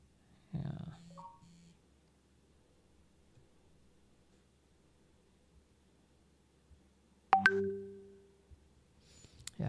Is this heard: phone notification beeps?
yes